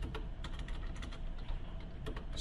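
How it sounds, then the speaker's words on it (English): Quick, light keystrokes clatter on a computer keyboard in an irregular run of soft clicks, close and fairly faint. "And you're typing"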